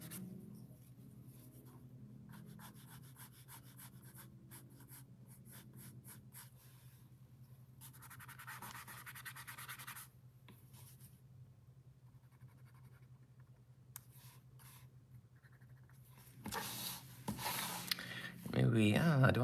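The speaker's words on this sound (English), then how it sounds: "this is just an indigo blue prismacolor pencil" An indigo blue Prismacolor pencil scratches across paper during concept sketching of hiking boots, in quiet intermittent bursts of close, dry strokes separated by pauses.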